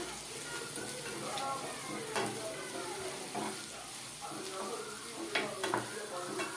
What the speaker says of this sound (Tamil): இந்த பூண்டை நல்லா வணக்கிக்கலாம்